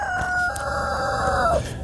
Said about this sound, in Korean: 그 닭새끼 좀 조용히 시켜라